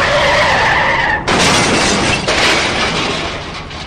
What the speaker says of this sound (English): They crash-landed in the water